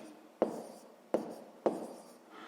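Marker or pen writing numbers for a sixth-grade maths exercise, three short strokes each starting with a sharp tap and trailing into a brief scratch, close and quiet.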